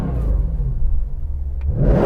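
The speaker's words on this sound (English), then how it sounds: "The way that revs up, look at that rev." A tuned car engine rumbles low and steady, then swells toward the end as it revs, with a deep, throaty growl throughout.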